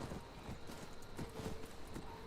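Horse hooves clip-clop in steady rhythm across ground in the video game Skyrim (Nolvus modlist), a continuous close gait with no one talking.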